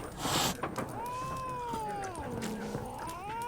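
A cat meows in The Witcher 3, a drawn-out, wavering cry that rises and falls over a few seconds, loud and close against a bed of game ambience.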